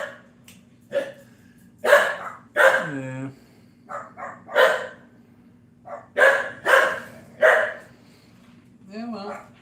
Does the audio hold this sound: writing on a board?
no